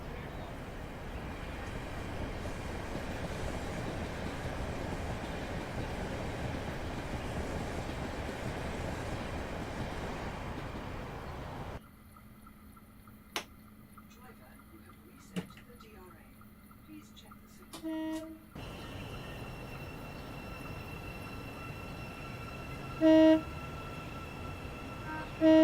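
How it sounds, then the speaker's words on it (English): A train passes on the other line in Train Simulator Classic on the Chatham Mainline, a steady rolling rumble that cuts off abruptly partway through, followed by quieter cab ambience with a few clicks and tones. "Train coming in from the other side here, actually."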